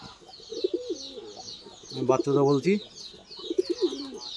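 Pigeons coo close by after landing from a flight, giving a few soft, rolling coos, and someone talks briefly between them.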